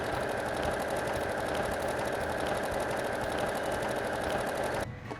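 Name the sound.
sewing machine stitching a buttonhole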